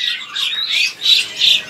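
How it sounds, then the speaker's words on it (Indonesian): Asian pied starling calling up close, a loud series of four or five harsh, squawking bursts in quick rhythm with no talk over it. "ini dia nih jalak Suren yang nota gacorannya ya"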